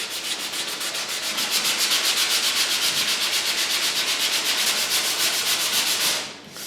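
Steady, close rasping strokes of a sanding block worked over bodywork on a Ford Mustang Mach 1 deck lid and quarter extensions, continuous and even for several seconds before stopping abruptly near the end.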